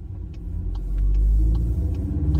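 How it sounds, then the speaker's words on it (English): Jeep Wrangler 392 muscle-car-style SUV driving, with a loud, steady low engine and road rumble that swells slightly midway, heard from inside with no talking. "This Wrangler we're driving, the 392, is also a ridiculous and great muscle car."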